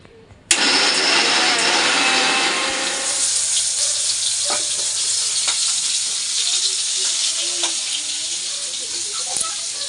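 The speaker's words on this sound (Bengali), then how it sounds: "চলো আজকে পাতাটা বেটে নিই" An electric blender grinds leaves, starting abruptly with a loud, steady high whirring roar that holds for the rest of the clip, easing slightly in pitch after a few seconds, with faint clicks underneath.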